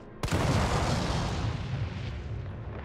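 One loud gunshot in the video game Resident Evil 3 Remake booms and rolls into a long, rumbling tail of echo that slowly fades.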